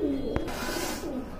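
Pigeons coo softly and repeatedly in a pet pigeon collection, with a low rounded cooing that is close by, plus one brief sharp tap.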